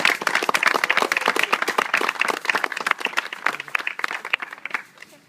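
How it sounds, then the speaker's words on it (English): Sustained applause from an audience at a dedication ceremony, many hands clapping densely and steadily near and loud before thinning and fading at the end. "We applaud them. Applaud you."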